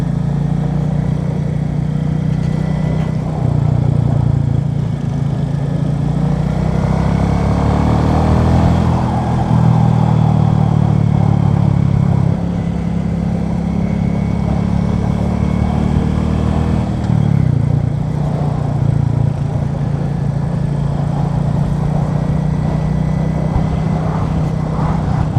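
A Royal Enfield Bullet 350 engine thrums steadily while riding, loud and close, with the low drone rising and easing as the throttle changes, plus wind noise and no talk.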